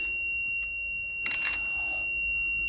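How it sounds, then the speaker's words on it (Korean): A nail gun tacker's low-pin warning alarm sounds as a faint, steady high-pitched beeping tone, with a brief louder burst of clatter in the middle. "4개 남기고 알람이 울립니다."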